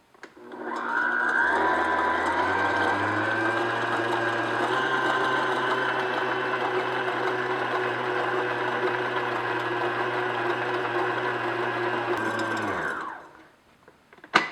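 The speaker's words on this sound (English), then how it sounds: "Now what we're going to do is just beat this on medium speed until soft peaks form." An electric mixer runs steadily at medium speed, beating egg whites toward soft peaks for a classic pavlova, with a constant whirring hum and a motor drone. It starts up near the beginning and stops abruptly near the end, with no talk.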